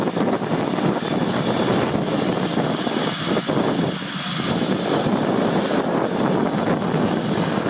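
Bell AH-1 Cobra single-engine attack helicopter running, a loud, continuous turbine roar and rotor rumble heard up close and steady for the whole stretch, with no voices.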